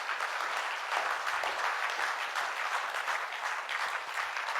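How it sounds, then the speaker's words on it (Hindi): Sustained, vigorous applause from a seminar audience at a pharma training program in Kolkata, dense clapping continuing evenly at moderate distance with no voices over it. "सो एक बार जोरदार तालियां होनी चाहिए टॉप टाइम के लिए"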